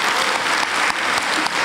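At a Kyrgyz aitysh poetry contest, an audience gives a performer a steady round of close, loud clapping that carries on evenly with slight swells and no voices on top.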